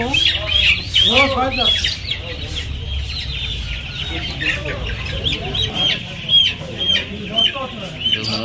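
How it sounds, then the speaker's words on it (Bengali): Roosters, hens and quail at a crowded poultry market cluck and squawk close by, with a rooster's crow near the start and steady chatter in the background. "সুন্দর সুন্দর মোরগ আছে, সবই মোরগ।"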